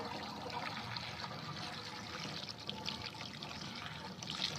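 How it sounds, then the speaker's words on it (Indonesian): Dissolved foamy white solution pours into a sprayer tank already holding a little water, a steady close splashing gush that runs without break for several seconds, no talk. "setelah ini baru kita tuangkan ke tangki ini"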